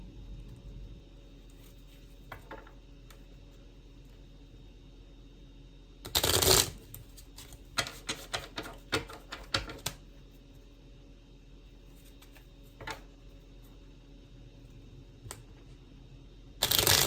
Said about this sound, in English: let's try shuffling again